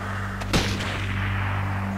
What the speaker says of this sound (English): would you stop throwing grenades at me?